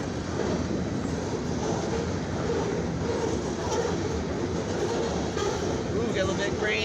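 A CFE grain and mixed freight train passing on the main track on a rainy afternoon, a steady loud rolling rumble of railcars with rain hiss underneath, continuous and close.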